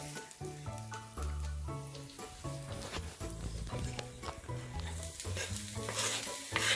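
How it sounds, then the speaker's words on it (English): Garlic and onions sauté in a tablespoon of olive oil for Mexican-style chicken enchiladas. A soft sizzle runs under stirring and clinking, while steady background music plays throughout and no one speaks. "first put 1 tablespoon of olive oil, and we can add the onions"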